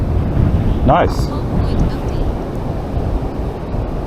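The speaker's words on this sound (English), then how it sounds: "it's really, really windy here" Strong outdoor wind buffets the microphone in a loud, continuous rumbling roar with gusty swells, while a voice speaks briefly over it.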